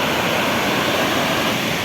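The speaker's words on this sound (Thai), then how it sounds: "บริเวณน้ำตกมองจากด้านบน" Mae Klang waterfall on Doi Inthanon roars as a steady, dense wash of falling water, loud and unbroken throughout, heard from above.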